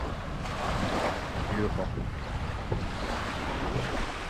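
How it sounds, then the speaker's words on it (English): Waves breaking on the shore of the Lower Niagara River at Fort Niagara State Park give a constant, close wash of surf mixed with wind buffeting the microphone, and a voice speaks a single word briefly over it. "just listening to the waves crashing"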